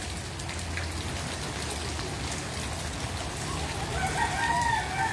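Steady rain falls over a flooded residential village in Pasig City, a constant broadband wash with a slight swell near the end, a faint rooster crowing in the distance and no voices.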